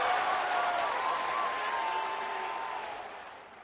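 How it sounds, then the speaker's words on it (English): A cricket video game plays a crowd roar after a boundary, a broad steady wash of cheering that swells early and slowly fades, moderately loud and without talk over it. "Crowd going mad here."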